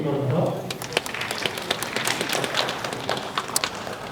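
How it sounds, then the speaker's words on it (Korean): Audience clapping in a lecture hall welcoming a coach-education lecturer at a football coaching conference, scattered sharp claps over room noise, fairly close and moderately loud, with a brief low murmur at the start. "박수로 맞이해 주시기 바랍니다."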